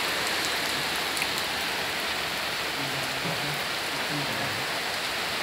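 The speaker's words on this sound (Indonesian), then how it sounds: "Hujan deras." Heavy rain pours down onto a house, a steady, dense wash of close, loud rainfall that continues without a break and with no other sounds over it.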